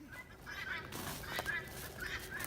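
A domestic duck from a small backyard flock, one with a badly injured leg, gives a series of honking calls at close range, several short nasal bursts spread across a steady background.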